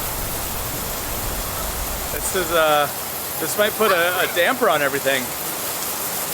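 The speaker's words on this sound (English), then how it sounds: "the rain is so loud on the roof that you can't hear anything inside" Heavy rain on a roof in a hidden corner of the Philippines, a dense, steady hiss filling the whole clip, with a person speaking briefly over it midway.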